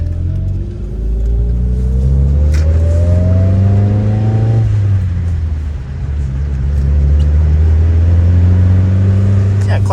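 Arcade racing game car engine, a stock Subaru WRX, accelerating: a loud steady roar rising in pitch through the gears with a brief drop at a shift, voices talking faintly underneath.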